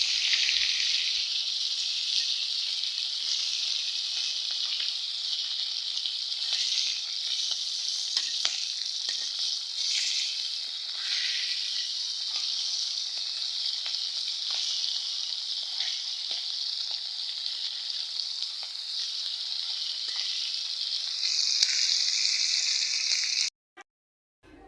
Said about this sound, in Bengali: তো এখানে আমি মাছগুলো উল্টাই দিব